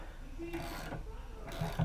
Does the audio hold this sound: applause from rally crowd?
no